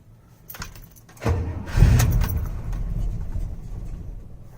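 Cold start of a 1975 International 150 pickup with no pumps and no choke: after a quiet stretch the engine cranks, then catches with a loud low rumble that settles into a steady idle.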